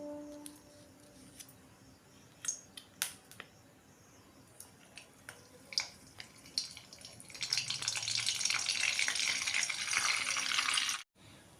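Butter melting and sizzling in hot oil in a pan, the frying hiss swelling from about seven seconds into a steady loud crackle, with scattered utensil clicks and light stirring before it.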